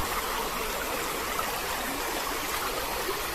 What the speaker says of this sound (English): is that part of the overflow for Roscoe Dam?